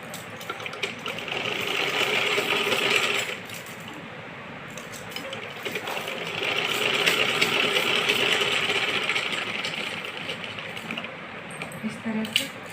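Sewing machine running in two long bursts of steady whirring while joining and stitching a kachli, with a short pause between them and faint handling clicks near the end.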